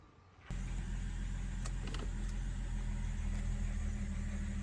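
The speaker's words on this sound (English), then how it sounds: "Let's start it, take it for a quick test drive and see if this works." Car engine after a turbo replacement starts abruptly and settles into a steady, loud idle hum with low rumble, a few faint clicks over the top, ahead of a test drive.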